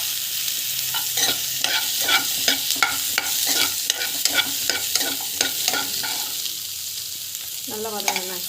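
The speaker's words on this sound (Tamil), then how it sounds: "சோம்பு, ஸோ வெங்காயம் வந்து ஆட் பண்ணிக்கோங்க. ஸோ நல்லா வந்து வதக்கிக்கோங்க." Onions and fennel seeds sautéing in a pan, a continuous sizzle with a regular series of scraping stirs from a spatula, and a brief voice near the end.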